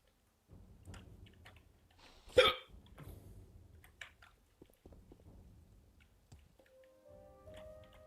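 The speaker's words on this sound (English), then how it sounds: "Hiccups fucking suck balls." A person hiccups, with one sharp, loud hiccup standing out among quieter mouth and breathing noises and faint soft clicks, with game sounds low in the background.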